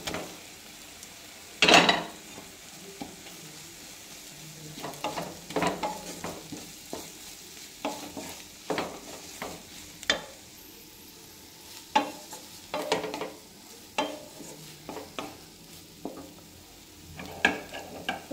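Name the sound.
grated paneer being added and stirred in a pan for paneer bhurji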